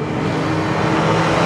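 Škoda rallycross race car engine roaring loud and close at a race event, a sustained strained drone with steady revs throughout the short burst.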